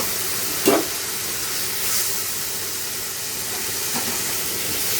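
Tomatoes sauté in a hot pan for a goat intestine gravy, giving a steady broadband hiss and sizzle throughout with a couple of soft clanks, no talking.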